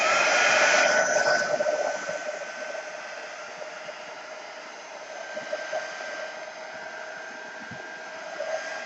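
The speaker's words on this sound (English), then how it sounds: "bear with me while I switch my heat gun on" Heat gun blowing steadily while drying a mounted cross stitch card, a continuous close airy roar that eases slightly after the first second and holds without talking.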